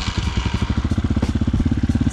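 Chinese 250cc street-legal dirt bike idling up close, a steady, rapid thumping exhaust pulse with a loud, even mechanical rhythm and no voices.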